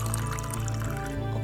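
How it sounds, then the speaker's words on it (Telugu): About 100 ml of water poured into a pan of Telangana-style gongura prawn curry, a short continuous splashing fill heard close and fairly loud, with a low steady hum under it. "ఒక 100 ml వరకు వాటర్ పోసి"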